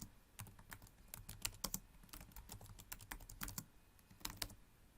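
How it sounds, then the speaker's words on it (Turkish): Typing on a computer keyboard: quick, irregular bursts of key clicks, close and fairly quiet, with no voices. "Sözleşme adını yazıyorum."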